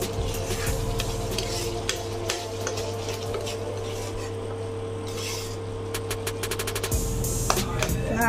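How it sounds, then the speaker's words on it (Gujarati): Garlic and chillies are stirred in a pan for a sev puri chutney, with repeated scraping clicks of a spoon over a soft, steady sizzle and a constant low hum close by. "લસણ અને મરચાં બંને સાથે મિક્સ થઈ જાય ચડી જાય ત્યાં સુધી એને હલાવવાનું"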